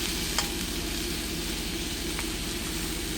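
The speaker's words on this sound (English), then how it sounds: "Okay, and we're just gonna stir fry this a little bit." Vegan Singapore noodles stir-fried in a dry pan with no oil, cooking inside a semi-truck: a steady close sizzle and scrape of stirring runs throughout over a low rumbling hum, with no talk.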